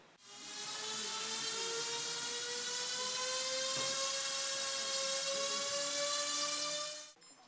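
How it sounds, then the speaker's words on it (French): Small remote-controlled drone, steered with a handheld controller under development, whining steadily at close range with a high rising pitch and strong buzzing harmonics, running continuously for about seven seconds with no talk. "Nous travaillons sur un drone téléguidé à l'aide d'une manette que nous sommes en train de mettre au point."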